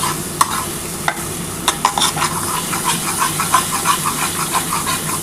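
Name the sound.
masala spice paste frying for Katla fish curry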